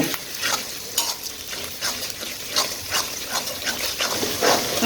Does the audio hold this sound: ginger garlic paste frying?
yes